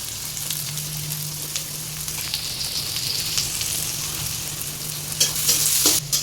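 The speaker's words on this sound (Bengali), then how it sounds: "চুলায় পেঁয়াজ দিয়ে দিছে, কাঁচামরিচ দিয়ে দিছে, ভাজা ভাজা করে নিতেছে।" Onions and green chilies fry on a stove, making a strong steady sizzle close by, with frequent stirring scrapes and a louder burst of hissing toward the end; no voices.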